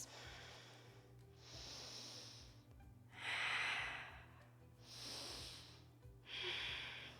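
Slow, deep breaths during yoga practice, heard up close but faint as four long airy inhales and exhales with pauses between them over a low background hum.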